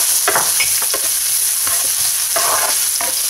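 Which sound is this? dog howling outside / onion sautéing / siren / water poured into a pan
onion sautéing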